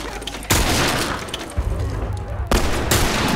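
Gunfire in The Last of Us Remastered comes as loud, close bursts of rapid shots, with one long volley followed by another sharp burst near the end, over a dense rumbling game background.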